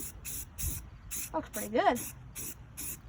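Paint being sprayed onto a 1971 International Cub Cadet tractor during restoration, short rhythmic bursts of hiss repeated about eight times, close and clear, while someone speaks briefly between them.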